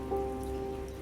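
Steady rain falling on surfaces in the video game South of the Circle, set in Edinburgh, a continuous soft patter with a faint sustained tone running beneath it.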